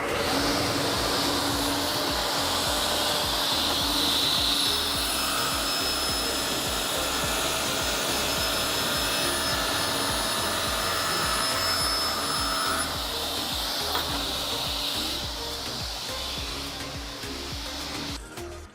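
A power saw cutting an MDF panel gives a loud, continuous whine that runs for most of the stretch, then steps down in pitch and slowly fades near the end as the blade spins down.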